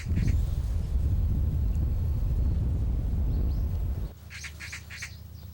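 Harsh magpie calls chattering in short bursts over a loud low rumble that suddenly cuts away, leaving the calls clearer.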